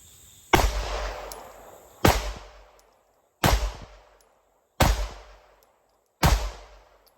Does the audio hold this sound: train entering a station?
no